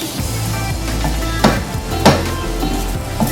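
Garlic roasts in a dry pan with no oil, giving a soft, steady sizzle, broken by a few sharp clacks as the cloves are stirred and tapped against the pan.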